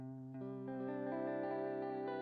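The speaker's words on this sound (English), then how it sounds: "there's a little bit of echo on that, a lot of reverb and feedback" An electric guitar chord rings out through echo and heavy reverb with feedback swelling into a sustained, layered drone, loud and close with no voices.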